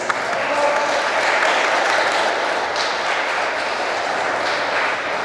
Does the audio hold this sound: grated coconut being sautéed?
no